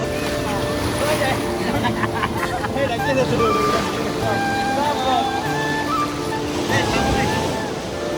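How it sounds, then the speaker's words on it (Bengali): Large sea waves surging and breaking on the shore at Cox's Bazar beach, a steady loud wash of surf mixed with wind buffeting the microphone, with a motorboat hum and people talking nearby. "সমুদ্রের ঢেউগুলো ছিল দেখার মতো এক একটা ঢেউ ছিল বিশাল আকারের"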